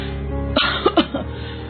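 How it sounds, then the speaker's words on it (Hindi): An elderly mother with a persistent, lingering cough lets out a short cluster of about four harsh, close coughs in quick succession. "उसकी माँ लगातार खांसे जा रही है"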